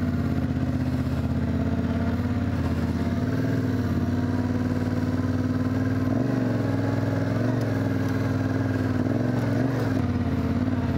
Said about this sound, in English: I'm sure they've seen the adventure bikes in here before.